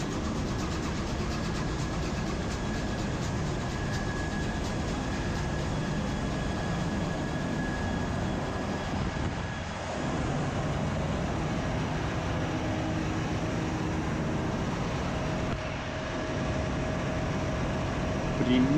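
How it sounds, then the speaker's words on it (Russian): Diesel generators run in a ship's engine room, a loud, constant mechanical roar with a steady hum and faint tonal whine that holds level throughout, while a voice speaks over it. "Сейчас посмотрим на дизель-генераторы."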